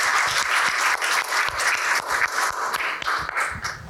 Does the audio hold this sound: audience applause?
yes